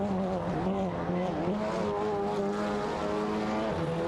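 Race cars in an AI racing video game, including a Ford Focus RS and Audi RS3 TCRs, drone with steady high-revving engine whines that rise and shift pitch as the cars battle closely, no voices over them.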